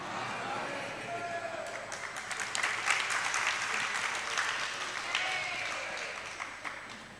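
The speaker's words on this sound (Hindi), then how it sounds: "आपकी तालियों ने बता दिया कि आप जहाज में बैठे हो" An audience at a Jain nun's Mangal Pravachan sermon breaks into sustained clapping that swells and stays dense for several seconds, with a voice speaking over the applause.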